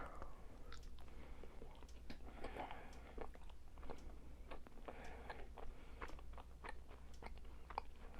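A hard orange, peanut-shaped, banana-flavored candy chewed close to the microphone: irregular, faint crunches and clicks over a low steady hum.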